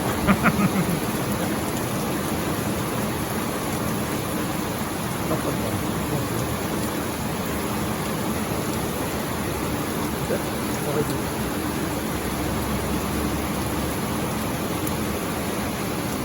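A summer thunderstorm brings steady, heavy rain and wind that hiss evenly throughout, with a low, distant roll of thunder rumbling underneath toward the end.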